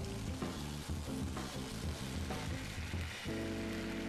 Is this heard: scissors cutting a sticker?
no